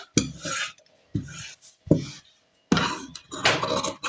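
Blouse fabric is cut in short, close rasping strokes, five bursts separated by brief pauses, with no voices.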